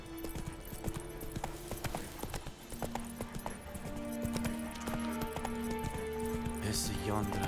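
In The Witcher 3 video game, a galloping horse's hooves clip-clop in a rapid rhythm alongside jingling tack, with game music and a voice speaking over it.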